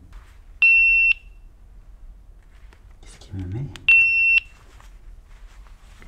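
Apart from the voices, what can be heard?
GoPro camera SD card alert beeping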